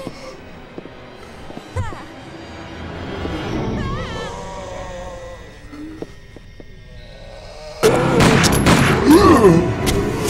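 Gunshots and loud bursts from the Resident Evil 2 video game, several sharp shots with game effects and voices, ending in a louder stretch of explosive fire near the end.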